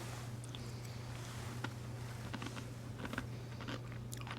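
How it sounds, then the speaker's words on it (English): Close, quiet biting and chewing of crunchy chips mixed into Chobani Flip yogurt, scattered crisp crunches over a low steady hum. "the chips are crunchy"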